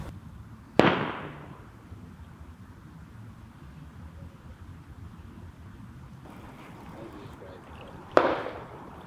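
Two sharp whooshing bursts of firework rockets launched by hand, one near the start and another about seven seconds later, each fading quickly over a steady outdoor background of wind and water on a riverbank.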